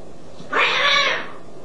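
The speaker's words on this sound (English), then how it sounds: "there's some cats getting in the fight under my feet" Cats fight underfoot with one harsh, loud yowl lasting about half a second that rises sharply from a quiet background.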